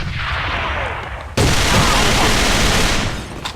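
Skorpion EVO gunfire during a video game match, a rapid burst that cuts in suddenly after a quieter stretch and stays loud and dense for about two seconds before tapering off.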